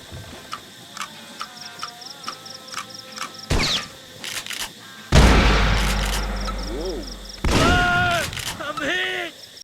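Soldiers fire from a kneeling position in the Vietnam War game Vietcong, with sharp separate gunshots and louder bursts cracking out among clicks and ticks, some shots ringing close and heavy.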